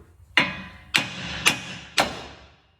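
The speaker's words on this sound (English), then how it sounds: "Now we're gonna go ahead and strike the spindle in order to get it to drop free." Four sharp, ringing hammer blows strike the steel front spindle of a 2006 GMC Sierra pickup, evenly spaced about half a second apart, loud and close, each fading quickly.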